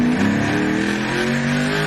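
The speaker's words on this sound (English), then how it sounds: "You could hear that car." An ARCA Menards Series stock car engine roars loudly past on the track, a brief droning blast with a steady high pitch, heard without any talk over it.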